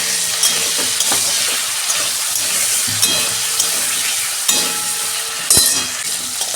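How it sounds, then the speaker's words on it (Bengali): Potatoes fry in hot oil with salt and turmeric in a home kitchen, a loud, continuous sizzle close by, broken by occasional clinks and scrapes of stirring, with no talking. "এই যে আলুটা আমার ভাজা হয়ে গেছে,"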